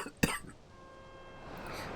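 A single sharp cough bursts out near the start, close and distinct, followed by quiet room tone for the rest of the clip.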